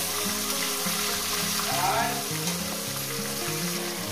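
Catla fish heads fry in hot oil with a steady, dense sizzle that runs through the whole stretch, with a faint tonal hum of background music underneath.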